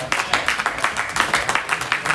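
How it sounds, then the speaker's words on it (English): A crowd applauds at a motivational talk on overcoming addiction and a criminal lifestyle, a steady run of rhythmic clapping at fairly loud level, with no voice over it. "Give yourself a round of applause"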